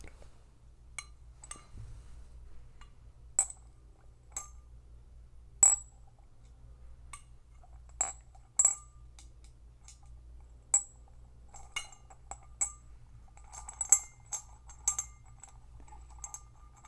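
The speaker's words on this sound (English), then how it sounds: "what I wanted to do was put these glass beads in a jar" Glass beads poured and dropped into a jar, giving a series of sharp, separate clinks and taps at an irregular pace, close and fairly quiet over a low steady hum, with denser clattering toward the end.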